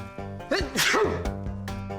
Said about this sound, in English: they're going to unleash a sample of 3 sneezes.